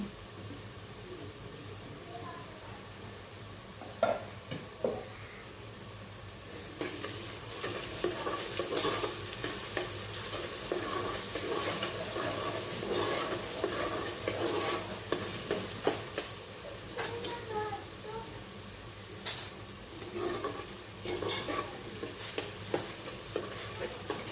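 Onion, ginger, garlic and asafoetida frying in a pan for mutton paya, a long continuous sizzle with frequent close spatula scrapes and stirs that grows busier after the first few seconds, with no talking.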